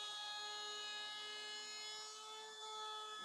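A loud, high-pitched whine of a handheld router rounding over a wood edge, with a steady tonal hum, its pitch wavering slightly as it cuts.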